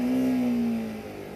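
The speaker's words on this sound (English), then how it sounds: "The exhaust note is awesome," A stock exhaust on a Bajaj Pulsar RS 200 motorcycle gives a brief rev that holds a steady pitch, then sags and fades as the throttle drops, close and loud.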